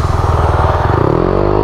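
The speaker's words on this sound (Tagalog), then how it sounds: "Ang lakas ng motor niyan." A motorcycle engine throbs loudly and close by on a road near a beach in General Nakar, Quezon, with a rough, steady pulsing that rises slightly in pitch toward the end.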